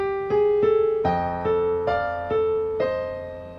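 Piano plays a descending pattern of harmonized right-hand thirds over a held low F bass, each dyad struck clearly and left to ring.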